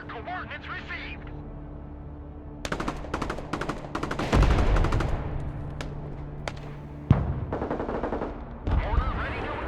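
Video game Broken Arrow military battle with rapid bursts of machine-gun fire and heavy booming shots in repeated volleys, loud and close, with radio-style voices talking between them.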